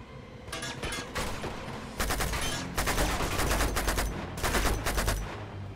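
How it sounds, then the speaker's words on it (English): Enemy gunfire in Uncharted 2, with bursts of rapid shots and single cracks coming in waves, fairly loud and continuous over several seconds, with no speech on top. "They're shooting at me now."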